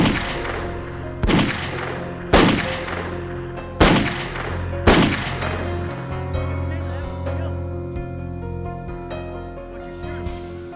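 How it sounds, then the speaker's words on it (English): A .357 revolver fires as a sound effect: about five loud, sharp shots in quick, uneven succession. Each blast rings out and decays, and a long, reverberant tail lingers after the last shot. "He had drawn a .357 he had kept hidden and emptied it into the unsuspecting wardens."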